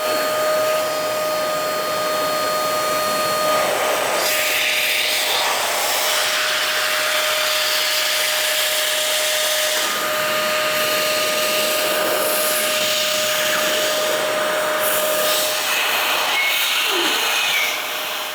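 Compressed air blasts into the nooks and crannies of a stripped DeLorean's fuel tank access area, a steady loud hiss running nearly unbroken throughout with slight surges.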